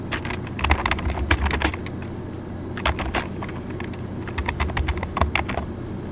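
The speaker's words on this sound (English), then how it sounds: "And I can type." Keys clatter in steady bursts on a computer keyboard, with short pauses between runs of quick, close taps over a low steady background hum.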